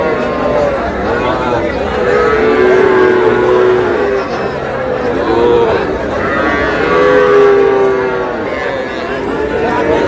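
Young bulls and heifer calves moo repeatedly, loud and close, over a busy background of crowd chatter at the Ambari cattle market in Dinajpur.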